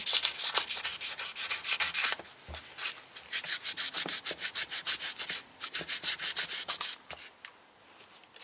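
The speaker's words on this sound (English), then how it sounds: "a bit of sandpaper just to get a key on it" Sandpaper rubbed by hand over a Yamaha TDM850 motorcycle brake fluid reservoir, a close, rhythmic back-and-forth scratching in quick even strokes with a couple of brief pauses.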